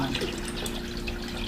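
Spring water pours steadily into a kettle, a soft continuous splashing and trickling at close range that stays even throughout the brief moment.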